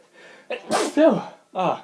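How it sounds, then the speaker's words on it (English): A person gives a single loud sneeze with a sharp intake of breath before it, followed by a short vocal sound. "I have to sneeze too, come on."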